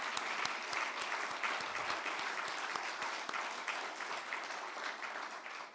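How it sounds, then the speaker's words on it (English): An audience at the National Press Club presidential inauguration applauds its active military members and veterans, sustained even clapping heard at a moderate distance with a few sharper individual claps standing out, no voices over it. "please give everyone a round of applause in the audience who are active military or veterans"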